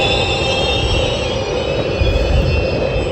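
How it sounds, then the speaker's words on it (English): A train passes at night in Italy, a loud, close, steady rumble and hum of wheels and carriages that swells slightly toward the end, with no voices. "There's a train."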